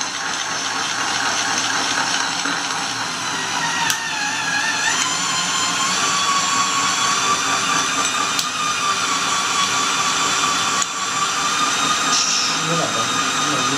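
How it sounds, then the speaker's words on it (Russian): A mains-powered cordless screwdriver drives a homemade grinder milling cocoa beans into fine chocolate paste, making a steady close whine and grinding rattle that lasts throughout, with a few sharp clicks. "я сейчас подключил шуруповерт от блока питания"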